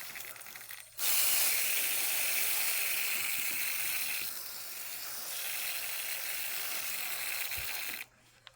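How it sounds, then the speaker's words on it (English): Long, steady hiss of a sprayer misting water onto sphagnum moss in seed pots, starting abruptly, shifting slightly in tone midway, then stopping sharply; close and fairly loud. "we can take our sprayer"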